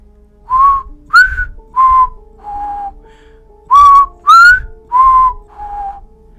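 Someone whistles a slow, eerie tune of about eight sustained notes, some rising and some falling, loud and close, against a faint low hum, with no speech.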